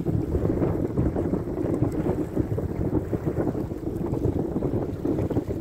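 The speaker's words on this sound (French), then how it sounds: "Je peux vous dire, il y a du vent." Strong wind buffeting the microphone in continuous low rumbling gusts, loud and close, with no speech, on the coast of Hauts-de-France at low tide.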